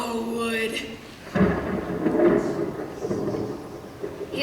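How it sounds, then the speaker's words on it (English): Thunder rumbles from a storm over a long low roar that swells after the first moment and lingers, with rain-like noise beneath and voices talking over it. "Hear that thunder?"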